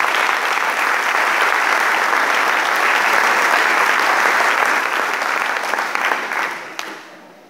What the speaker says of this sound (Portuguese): Dê um aplauso ao teu Senhor querido.